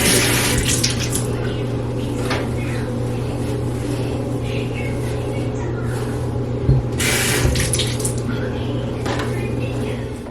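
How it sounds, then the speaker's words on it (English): Tap water from a bathroom sink runs through hair in a steady nearby gush, with brief louder splashes as the flow shifts and a low hum underneath. "I'm just gonna use the sink water and just run some water through my hair"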